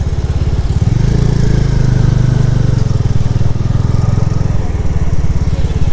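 A motorcycle rides through the left side of the Hoskote toll bridge gate on National Highway 75, its engine chugging loudly and close with a fast, even pulsing throb throughout.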